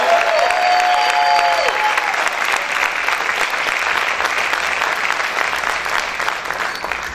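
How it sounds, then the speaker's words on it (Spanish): Church congregation claps and shouts loudly during a Spanish-language sermon, dense sustained applause with cheering voices filling the whole stretch, a few whoops rising early before the clapping slowly thins. "¿Cuántos pueden gritar y aplaudir fuerte"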